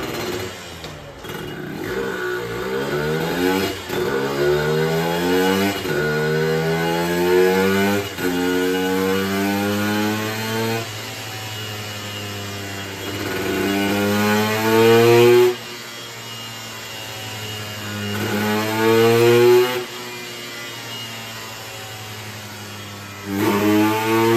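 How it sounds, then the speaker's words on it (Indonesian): A motorcycle engine on a dyno revs hard through repeated climbing pulls with a Japanese exhaust, rising in pitch each time before dropping back, loud and close with no talking. "Ini run yang ketiga tes knalpot Jepang"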